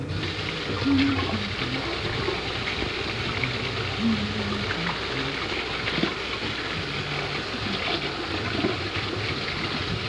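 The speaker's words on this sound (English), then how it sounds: "Get your water running." Steady splashing and rushing of water running from a tap, continuous throughout, with faint background sounds and no clear talk.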